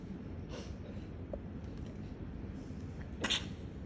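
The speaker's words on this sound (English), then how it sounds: "Bless you, whoever just sneezed" A single sharp sneeze from a person bursts out near the end, fairly distinct above a quiet room background with a softer breathy sound earlier.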